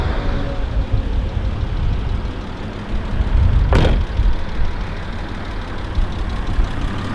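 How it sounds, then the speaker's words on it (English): Engine of a BMW E39 with 250,000 miles idling steadily with a lifter tick in the running note, heard up close and alone, with one brief sharp knock midway. "Definitely has some ticking going on in here. Lifter tick."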